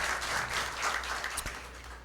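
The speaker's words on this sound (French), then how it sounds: "je vous demande d'applaudir le lycée Alexandre Pétion" A studio audience at a school quiz competition gives brief, fairly faint applause for a high school team, a soft wash of clapping that fades toward the end.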